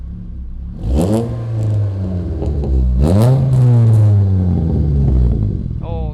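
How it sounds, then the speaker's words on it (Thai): A Honda Jazz GK with a manual gearbox and a naturally aspirated 153 hp engine, its compression ratio raised, revs up under light throttle, rising and falling close by while someone talks over it. "ติมคันเร่งให้ผมหน่อยได้ปะ ไม่ต้องไม่ต้องเยอะนะ"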